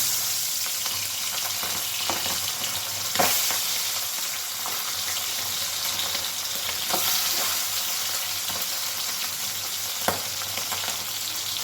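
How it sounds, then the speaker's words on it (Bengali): Tangra fish fry in hot mustard oil with a constant, even sizzle, broken by a few scattered sharp pops and spits. "এবারে আমি মাছগুলো ভেজে নেব"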